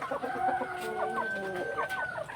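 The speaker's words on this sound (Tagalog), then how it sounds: "may bagong dating tayong manok na kulot" A curly-feathered chicken clucks and makes drawn-out, warbling calls close by, with a faint bird chirp or two in the background.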